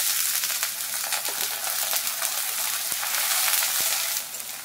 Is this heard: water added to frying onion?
yes